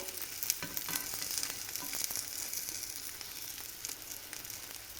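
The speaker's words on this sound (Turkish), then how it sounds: "Şöyle her tarafını bir kızartıyorum." Bread dipped in egg sizzles and crackles steadily in a hot frying pan, a close, continuous frying hiss with small pops and no talking.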